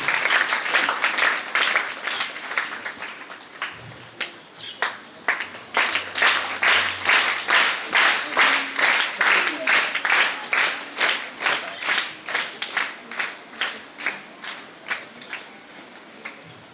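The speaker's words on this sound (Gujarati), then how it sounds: "આપણે તાળીઓના નાદથી વધાવીએ" An award ceremony audience claps continuously, building into sustained applause with a strong rhythmic pulse of unison clapping that carries on steadily, and some faint voices mixed in.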